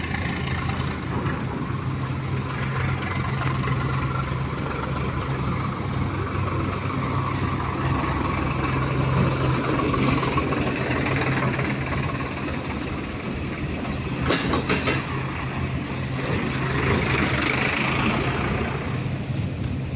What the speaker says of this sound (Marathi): काटा गेटवर ट्रॅक्टर भरून आलेला आहे